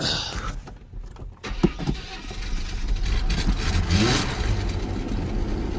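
A Chevy S10 with a 4.3L engine and flooded spark plugs cranks briefly, then catches and settles into a steady, moderately loud running rumble that continues to the end.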